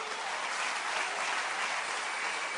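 Steady applause from a church congregation, dense and sustained throughout with no voices on top, a broad even wash of clapping.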